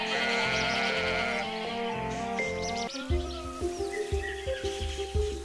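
Sheep bleat over and over, with long quavering cries overlapping at first, then shorter, choppier bleats coming in quick succession, all loud and close.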